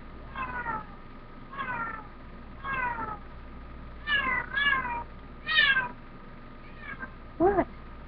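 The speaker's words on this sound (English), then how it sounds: "Sorry about my cat." A house cat meows and cries repeatedly, about eight drawn-out wavering calls spaced a second or so apart, fairly close and clear over a quiet room with no talk.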